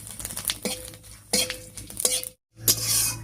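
Whole cumin, a torn dried red chilli, whole garam masala and a bay leaf hitting hot mustard oil in a kadai, crackling and sizzling in short close bursts, with a spoon stirring and scraping the pan between them.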